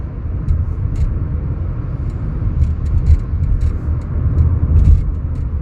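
Steady low road rumble and engine drone inside a moving Suzuki Fronx, loud and continuous, with faint clicks and rattles from the cabin but no talking.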